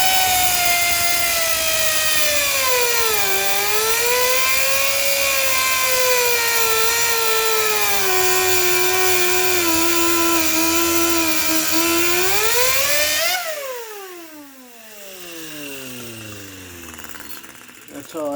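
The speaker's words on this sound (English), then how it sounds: "Take my cutoff wheel. It's going to get noisy and there ain't much I can do about it." A cutoff wheel grinds into an iron cylinder head with a loud, high whine whose pitch dips and rises under load, then spins down to a fading tone as the cut ends.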